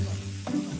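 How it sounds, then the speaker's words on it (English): Marinated pork frying quickly in vegetable oil in a Cantonese kitchen, giving a brief, steady sizzle with a soft stirring clatter, close and moderately loud. "I'm quickly frying the marinated pork with vegetable oil to seal in the flavors."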